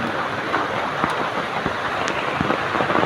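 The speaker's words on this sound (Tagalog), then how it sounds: "sobrang lakas ng ulan" Heavy rain pours steadily during a storm, a dense continuous hiss with scattered drops and patters close by, no voices.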